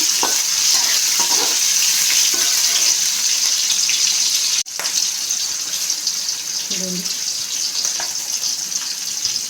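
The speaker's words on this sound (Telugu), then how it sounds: "సాల్ట్ కొంచెం వేసుకున్నాం ఒకసారి కలుపుకున్నాం" Vegetable rice is stirred in a hot pan after salt and green chillies go in, with continuous loud sizzling and a few scraping strokes of the spoon, one sharp knock midway.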